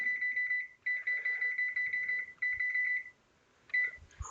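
An oven timer in a home kitchen sounds rapid, shrill electronic beeps in short bursts with brief pauses, close and clear, with faint clicks as it is set.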